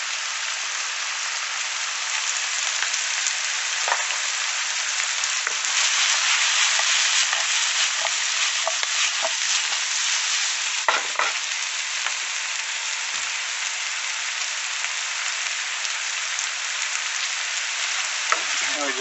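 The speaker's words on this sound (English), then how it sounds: "we just keep on going and tossing until our aromatic herbs get wilted down and the canna roots start to get a little golden brown on the outside" Canna roots and aromatic herbs sizzle and fry steadily in a pan, a dense crackling hiss running throughout with occasional scrapes and clatters as the food is tossed and stirred.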